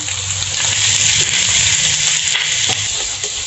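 Chicken fries in a hot pan with ginger for adobo, making a loud, continuous sizzle with faint scraping and stirring near at hand and no voices.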